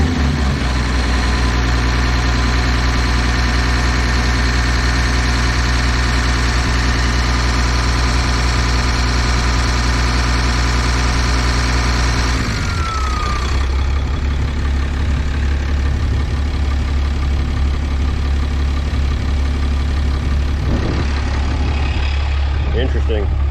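A 6.7 Cummins diesel truck engine with about 859k miles and suspected bad injectors idles loud and close during a fuel pressure test, a steady low rumble that shifts partway through.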